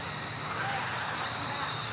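RC sprint cars racing around the track at Pheasantland RC Park, a steady high-pitched buzzing whine of small motors blending into a continuous, fairly faint hiss with no clear passes.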